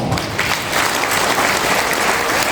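Dense, steady applause from a large audience at a motivational talk, a continuous wash of many hands clapping at even loudness throughout, with no voices rising above it.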